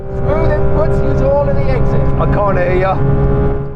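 A heavily modified Porsche GT3 RS races around a track, its engine holding a steady, loud drone for the whole stretch while a voice talks over it.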